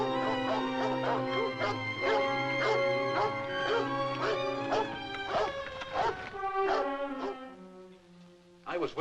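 A dog gives a string of loud, close, yowling barks and whimpering wails with a strained, moaning tone, repeating irregularly before trailing off, with a few sharp yips at the end.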